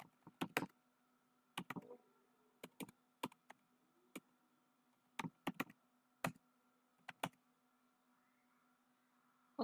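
Quiet, close keystrokes on a computer keyboard come in irregular bursts of clicks and short pauses over a faint steady hum, with no one talking.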